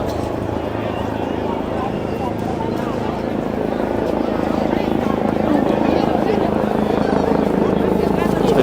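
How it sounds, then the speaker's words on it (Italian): Helicopter rotor thrum passing overhead during the Venice Carnival, a steady low churning drone that swells slightly over several seconds beneath crowd noise and nearby voices. "Intanto passa l'elicottero sopra di noi."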